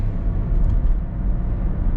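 Toyota Prius, about 12 years old, accelerating on its gasoline engine, giving a steady low engine and road rumble heard from inside the car, with no talking.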